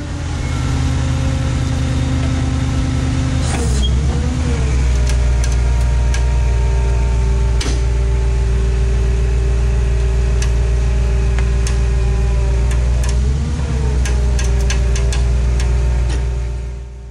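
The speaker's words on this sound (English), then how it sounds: "we are now ready to back the wrecker up and hook the sling on to the front of the Jimmy" A tow truck wrecker idles and reverses toward a GMC Jimmy Blazer to hook its sling, a loud, steady low diesel rumble with small throttle swells and scattered light ticks and clanks.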